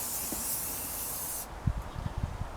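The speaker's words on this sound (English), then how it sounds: "Spray the tassets on the outside." Steady, close hiss from an aerosol rust spray coated onto the outside of medieval armour tassets for about a second and a half, then a few soft knocks and clunks of handling.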